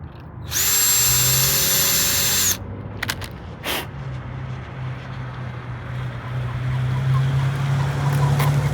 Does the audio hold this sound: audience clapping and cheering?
no